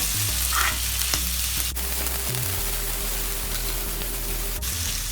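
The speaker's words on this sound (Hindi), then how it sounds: "अब हम पनीर डाल के भूजेंगे। अच्छे से फ्राई कर लेंगे।" Paneer frying in a teaspoon of hot refined oil over high heat, giving a steady, close, continuous sizzle with a few faint stirring scrapes and no talking.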